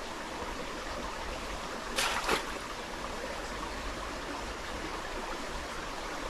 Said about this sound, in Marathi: ही बघा ही नदी आहे